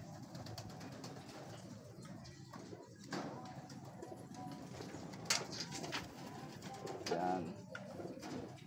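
Racing pigeons being loaded for sprint-race training in San Pablo, Laguna coo softly and intermittently against a quiet background, and someone speaks briefly.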